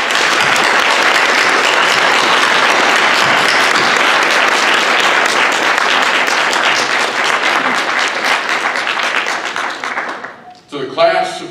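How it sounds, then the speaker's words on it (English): Dense, loud audience applause fills a 2023 graduation ceremony hall for about ten seconds, then fades out as a speaker begins talking. "Please give them a round of applause."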